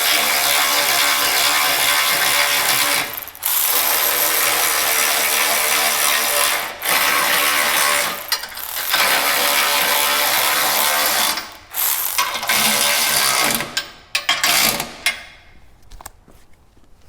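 Ratchet wrench tightening 14mm nuts onto the clutch studs of a 2016+ Mazda MX-5 Miata, a steady run of close, loud clicking strokes broken by short pauses, slowing and stopping toward the end.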